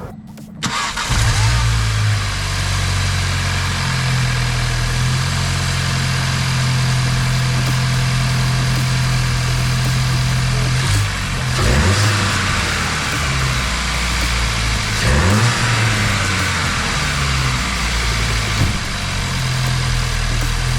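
A VW Mk7.5 Golf GTI Performance engine starts with a quick crank and then settles into a steady, close idle, with a couple of brief throttle blips or load changes partway through, and no voices.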